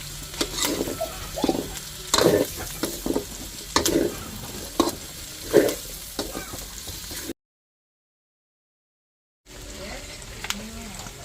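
Garlic and onion sizzle in oil while being stirred in a pot for a pork dish at a barangay fiesta, with scraping strokes and rhythmic clatter, a short silent gap, then more frying.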